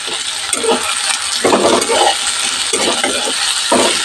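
Tomato pieces and salt are stirred in a frying pan with a spatula, scraping in several bursts over a constant sizzling hiss, close up with no talking.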